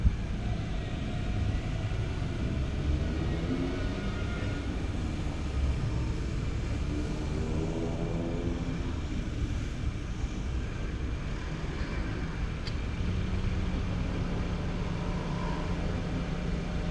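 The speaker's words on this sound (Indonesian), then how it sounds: "Yang enaknya tuh dari drone ini dia suaranya kecil guys" Small quiet camera drone flying outdoors, a steady low whirring hum with gently shifting pitch that stays constant throughout, with no speech.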